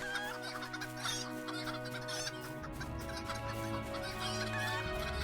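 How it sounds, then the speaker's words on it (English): Crispy Jr., a pet chicken in a Trollshaws area of an online fantasy game, clucks repeatedly in short bursts over steady, layered game music and ambience. "Crispy Jr. is contributing to the noise as well. Chicken pets do that."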